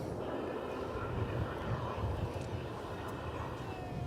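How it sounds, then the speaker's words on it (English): A Boeing 777 turning into its parking spot at DFW Airport, a steady distant jet engine rumble and whine held at low level for the whole stretch, with faint background noise. "Catch a little more of this 777 as it turns into its parking spot."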